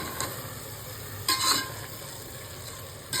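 Soaked rice being stirred into masala in a hot pan, a soft scraping and sizzle with a louder scrape burst partway through, close and without talk.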